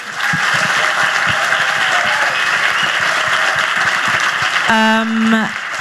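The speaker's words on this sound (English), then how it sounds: "I'll just pause for a brief bit of applause for the general panel discussion" Audience applause after a panel discussion on state violence and gender, loud continuous clapping throughout, with a brief tonal electronic sound near the end.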